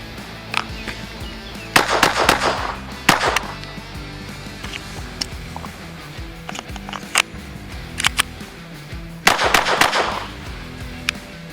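A SIG Sauer P322 pistol fires .22 long rifle rounds outdoors, sharp cracks coming singly and in quick clusters at moderate distance, separated by quieter pauses.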